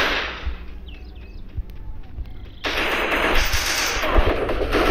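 Gunfire in the mobile battle game Free Fire, with sharp shots and rapid bursts over a dense, loud wash of in-game noise that swells halfway through. There is no talking.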